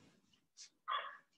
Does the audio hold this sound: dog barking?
yes